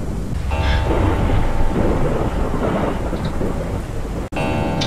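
Loud, dense rain in the video game Pacify pours steadily with rumbling thunder beneath it, a continuous roaring downpour that briefly cuts out near the end.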